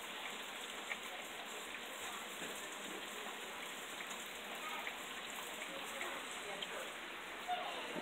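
Steady rain falling outdoors, a dense even hiss of drops hitting surfaces with no pauses, continuous throughout.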